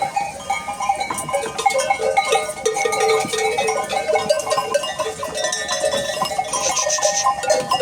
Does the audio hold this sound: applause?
no